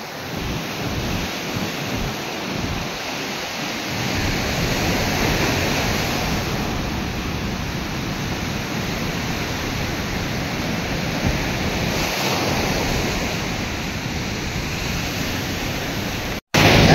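Strong ocean waves roll onto a beach as a loud, continuous roar of surf that swells slightly now and then and cuts off abruptly near the end.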